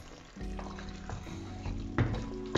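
An Ethiopian-inspired chicken stew is stirred in a pot, a soft simmering sizzle under light scraping strokes of a spoon, with a couple of sharper clinks near the end; no one speaks.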